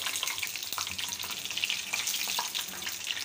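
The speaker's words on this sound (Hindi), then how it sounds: "तो ये मैं अपने लिए बस बेटे के लिए फ्राई कर रही हूँ" Rolls frying in oil in a home kitchen at iftar time, with a soft, steady bubbling sizzle and scattered small pops heard up close without any talk.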